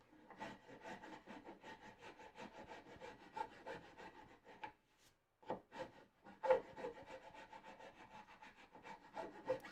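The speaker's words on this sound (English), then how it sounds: "Yep, and now a file." A hand file rubs rhythmically back and forth on a wooden bench leg, close and quiet, with steady repeated strokes and a short pause midway.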